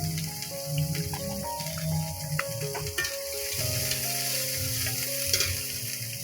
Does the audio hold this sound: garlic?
yes